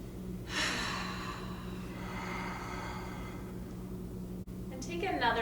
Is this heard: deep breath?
yes